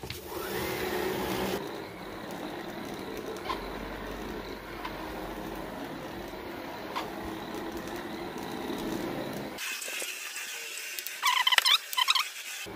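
Karcher KB5 lightweight cordless sweeper running over carpet, a steady mid-level whirring hum with light brushing patter, cutting off near the end and followed by a few brief rattling clicks.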